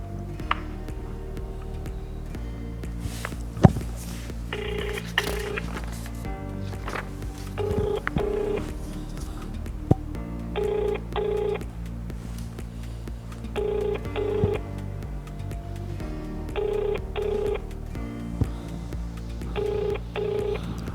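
A telephone is dialed and rings repeatedly, with evenly spaced tone bursts recurring over a steady background hum and occasional clicks.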